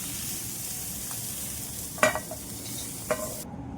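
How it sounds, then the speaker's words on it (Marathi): Garlic greens and other ingredients sauté in oil in a pan, producing a steady close sizzle with a few sharp spatula scrapes and clinks as they are stirred. "हे पहा खमंग असं तेलामध्ये आपलं चांगलं असं परतून झालेलं आहे सर्व साहित्य."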